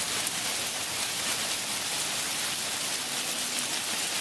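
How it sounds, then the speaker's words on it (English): Rain and hailstones pour down steadily during a severe summer thunderstorm in Chicago, a dense, continuous hiss of drops drumming on surfaces at an even level throughout, with no voices. "Here's one of the hailstones that is falling."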